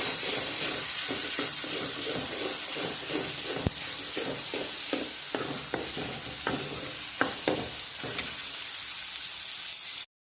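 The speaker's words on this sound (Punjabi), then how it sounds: "ਗੰਡਾ ਆਪਣਾ ਭੁੱਜ ਗਿਆ" Onion frying for saag in a pan, a steady broadband sizzle with repeated soft scraping stirs and occasional sharper clinks, close and continuous throughout with no talk.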